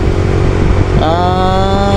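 Motorcycle engine running steadily while riding slowly, carrying a passenger, with a faint rattling fault noise; a constant loud drone whose pitch rises as the rider opens the throttle partway through.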